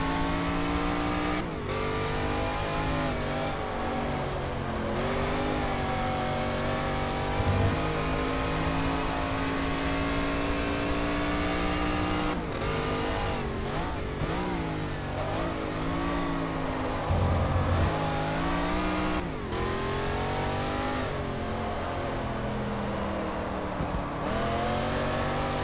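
A De Tomaso Pantera's engine in the racing game GT Legends revs hard and continuously, its pitch climbing and dropping through gear changes over a long loud stretch, with no talking.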